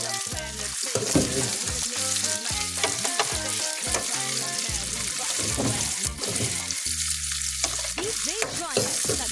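Sliced onions frying in a pan for squid adobo with green beans, a busy close sizzle broken up by repeated scraping and clattering stirs of a utensil against the pan.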